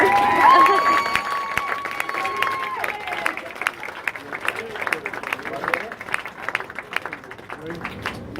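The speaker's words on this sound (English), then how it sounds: "Let's have a round of applause for Luke for making it here today." Wedding guests applaud during the best men's speeches, a crowd clapping at moderate volume that swells early and then carries on as a steady patter, with a voice briefly audible at the start.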